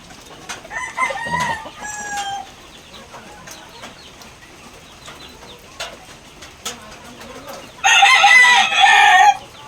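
A rooster crows loudly and close by on a rainy morning, while other chickens cluck and call intermittently in the background.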